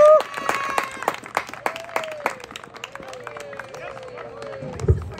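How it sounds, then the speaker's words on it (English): A crowd at a high school soccer senior night claps in scattered, uneven bursts, moderately close, with a sustained tone and murmuring voices running underneath. "Let's give one more round of applause to all of our amazing soccer seniors."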